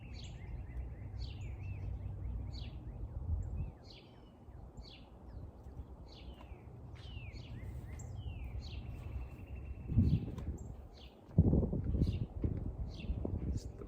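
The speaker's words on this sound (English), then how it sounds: "The bird's still there." Outdoors, a bird sings a series of quick repeated chirps and trills at moderate distance, over steady wind noise and occasional rustling and microphone bumps.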